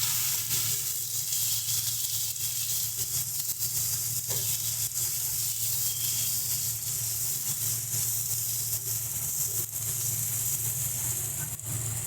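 Ground spices, coriander powder and Kashmiri red chili powder, frying steadily in hot oil with salt for capsicum paneer, a continuous close sizzle and hiss throughout with no talking.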